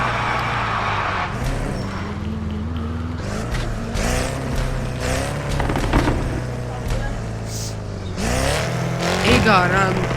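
A powerful Mercedes C63 engine revs up and down close by in loud, rising and falling surges, with voices audible in the background.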